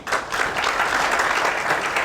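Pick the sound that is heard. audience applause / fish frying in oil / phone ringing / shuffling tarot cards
audience applause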